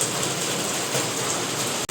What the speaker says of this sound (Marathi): आता पावसाला सुरुवात